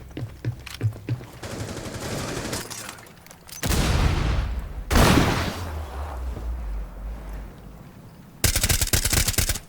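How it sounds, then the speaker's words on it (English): Rapid three-round bursts of gunfire from a weapon in Rainbow Six Siege, loud and close, with sharp cracks and a brief shattering boom in the middle, ending on another quick burst. "burst fire in that weapon. I just prefer it in burst fire."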